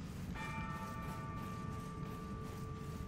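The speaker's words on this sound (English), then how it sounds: "Somebody's sounding the bell." A bell rung in Elden Ring, a single resonant metallic strike that rings out with a long sustained tone over a low rumbling ambient bed, with no talk.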